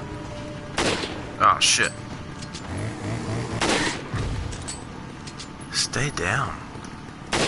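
Gunfire in Resident Evil 4, a few sharp shots scattered among game sounds and ambience, heard mostly under talking voices.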